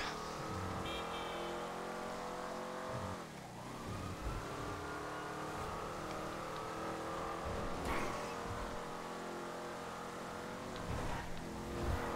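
Car engine from a vehicle driven in the video game GTA 5, a steady loud roar with rising and falling revs and gear shifts throughout, with a couple of brief sharper bursts.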